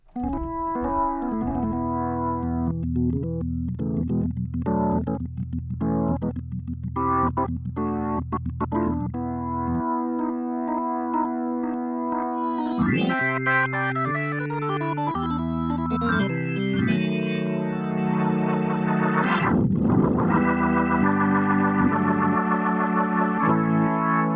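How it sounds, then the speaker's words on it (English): An organ plays chords and runs through a Nord's Leslie rotary speaker simulation with light overdrive giving a slight gritty edge, a steady, full sound with no voices. "just a little bit of drive to it from the Nord again"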